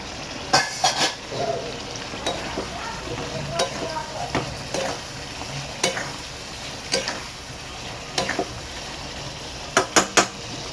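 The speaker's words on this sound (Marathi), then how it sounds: "आता आपण टाकून घेऊया कलेजी." Goat liver fried with masala in a pan, a steady sizzle under repeated stirring and sharp metallic scrapes and clinks of a spoon against the pan, close and fairly loud, with a quick cluster of clinks near the end.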